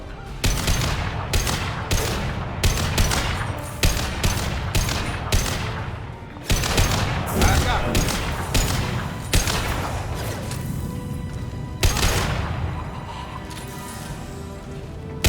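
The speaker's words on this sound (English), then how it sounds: "Firing an impact shot!" Heavy impact-shot gunfire in Mass Effect Legendary Edition 2, loud and close, firing in quick repeated bursts of sharp blasts with crashing tails that run almost without pause.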